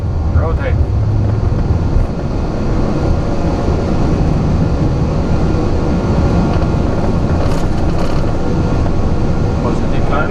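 Airbus A340 accelerating down the runway and rotating for takeoff, heard from the cockpit as a loud, steady jet-engine roar and low rumble that carries on throughout while crew members speak over it.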